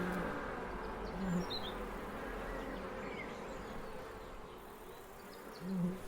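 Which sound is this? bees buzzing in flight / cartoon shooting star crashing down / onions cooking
bees buzzing in flight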